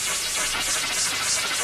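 Random noise from an early synthesizer's noise oscillator: a short, dense, steady hiss spread broadly with bright upper emphasis, loud and unbroken for under two seconds with no voice.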